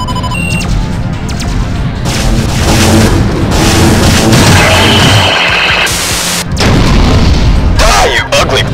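Spaceship guns fire in heavy bursts during a space dogfight in Wing Commander Secret Ops, loud booming volleys and rapid shots layered over game music and radio chatter from pilots.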